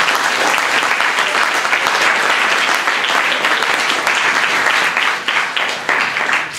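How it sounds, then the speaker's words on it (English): Dense, steady applause from a large audience at a panel debate on private education, loud and sustained throughout, easing slightly near the end. "Give him a round of applause."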